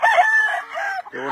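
A rooster crows loudly and close by at a Mexican farm that sells fighting gamecocks, the harmonic call rising and holding before a second, shorter crow begins at the end.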